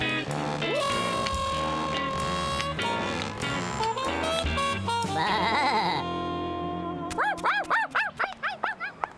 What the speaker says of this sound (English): Yikes! It's a freakishly huge sheep!